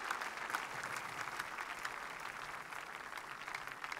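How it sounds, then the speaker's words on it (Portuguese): A church congregation at a mass prayer service claps together in praise: a steady, even wash of many hands at moderate distance, continuing unbroken and without speech. "Tenha uma salva de palmas para o Senhor."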